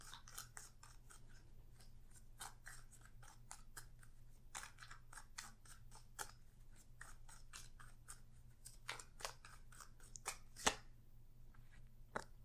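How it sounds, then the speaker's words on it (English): Tarot cards being drawn and shuffled from a deck: quick, soft papery flicks and snaps in rapid irregular succession, close and quiet, with no voices. "I'm going to pull one more card just to get a little deeper, or maybe a few more cards."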